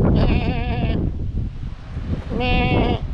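A goat in a mountain hamlet on Santo Antão lets out two loud, close, wavering bleats about a second and a half apart, with wind rumbling against the microphone.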